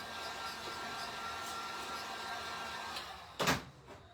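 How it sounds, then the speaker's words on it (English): A hair dryer blows steadily to dry paint on a stained glass Santa, a constant near airy whoosh with a brief louder thump near the end. "I'm going to give them a little blow dry here."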